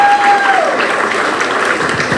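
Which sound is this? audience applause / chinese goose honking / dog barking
audience applause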